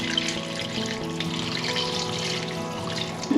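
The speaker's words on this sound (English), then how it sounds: "Pour your butter, sugar, water and golden syrup all over your pudding" A warm mix of melted butter, sugar, water and golden syrup is poured over a pudding, making a steady, close trickling pour that lasts several seconds with no talking.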